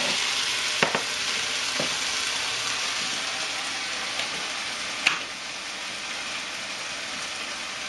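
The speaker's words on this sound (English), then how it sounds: "Now I'm going to add them to the sauce." Browned beef meatballs sizzle steadily in a pan of spaghetti sauce, a dense close hiss with a few faint clinks and one sharper knock partway through.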